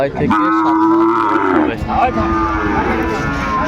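A six-to-seven-month-old Sahiwal bull calf moos loudly and close by in one long, drawn-out call, over a steady background hum, at a cattle market.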